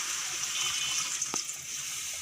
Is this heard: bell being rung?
no